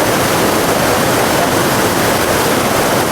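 Pistyll Rhaeadr waterfall roaring in a steady, loud, unbroken rush of falling water that fills the whole moment, with no voices.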